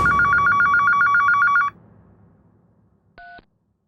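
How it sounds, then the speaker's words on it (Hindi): A telephone rings loudly with a rapid trilling bell for about a second and a half, then falls quiet before a brief electronic beep sounds. "अचानक फोन बजा।"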